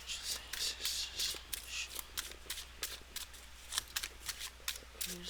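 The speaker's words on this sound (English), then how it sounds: "just give these a shuffle for a second because I hadn't shuffled them at all." Tarot cards being shuffled by hand, a quiet, close series of crisp riffling snaps and soft flutters in irregular bursts against a faint low hum.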